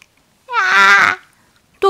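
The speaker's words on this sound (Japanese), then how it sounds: "子供というか、赤ん坊の声が聞こえました。" A baby's babbling cry used as a sound effect in a ghost story set on a steep mountain hiking trail: one short wailing vocalization, clear and near against silence, followed by the brief start of another.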